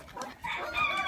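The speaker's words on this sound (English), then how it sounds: "Chickens." Farm chickens cluck in a brief, close, fairly quiet burst of short broken calls.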